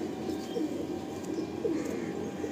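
A show-quality pigeon gives soft, muffled coos that sit inside a steady, noisy background hum.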